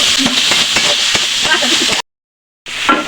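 Potatoes frying with turmeric in a pan, a steady loud sizzle with bursts of crackle and scraping stirs, close up, broken by a short dead-silent gap before the sizzling resumes.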